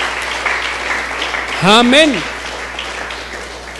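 Church congregation applauding during a sermon: a steady wash of clapping runs throughout, with a single voice calling out briefly over it midway.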